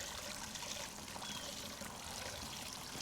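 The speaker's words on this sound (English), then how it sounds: "We're just gonna let this flush for a little while, let it run." Water gushes steadily through the fuel tank of a 1972 Yamaha LS2 motorcycle during a flush, a constant hissing, splashing pour with no breaks and no speech.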